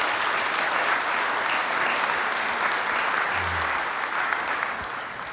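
Sustained applause from the crowd at the opening ceremony of the new Bay Bridge East Span, a dense, steady wash of clapping that holds at an even level throughout.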